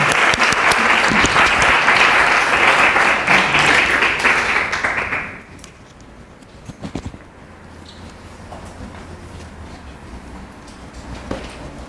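An audience at a visiting-artist lecture claps loudly and steadily for about five seconds, then the applause dies away to quiet room tone with a few faint knocks.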